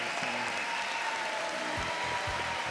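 Studio audience applause on a televised talent show, a dense, even roar of clapping that holds at steady volume for the whole stretch, with faint tonal music or hum underneath.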